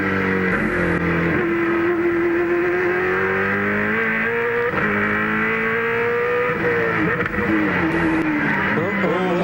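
Onboard a Holden Commodore V8 Supercar racing at Hidden Valley in 2001, the engine howls loud and close, rising through the revs and dropping on gear changes. A commentator talks over the engine.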